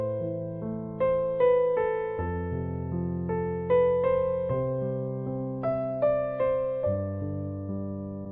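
Beginner's piano song played with the sustain pedal held, a steady melody of single notes over low chords, each note left ringing and blending into the next, alone and close.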